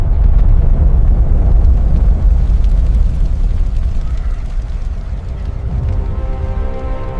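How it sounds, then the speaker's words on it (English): Violent Plinian eruption of Vesuvius: a loud, continuous deep roaring rumble with a sustained blast-like texture throughout, easing slightly near the end, with no talk. "What Pliny the Younger is watching is the beginning of a Plinian eruption, the most violent and catastrophic type of volcanic eruption on the scale."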